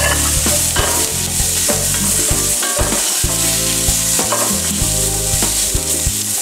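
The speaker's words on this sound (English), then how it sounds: "at this stage, we're gonna add that garlic. Just cook for about a minute or so." Garlic and vegetables sautéing in a hot pan, a steady loud sizzle with stirring and scraping throughout, alone without any talk.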